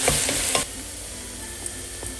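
Onions, leeks, carrots and celery sizzle in a soup pot, with a burst of stirring scrapes at first, then a steady soft frying hiss.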